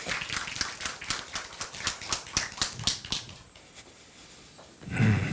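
Rhythmic clapping at a church gathering, a run of evenly spaced sharp claps that thins out after a few seconds into quiet, followed by a short louder thump.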